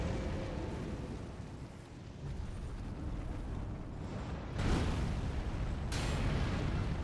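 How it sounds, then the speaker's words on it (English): A fire breath attack in Elden Ring roars as a dense, continuous blast that swells suddenly louder partway through and keeps surging to the end. "Right, you breathe fire."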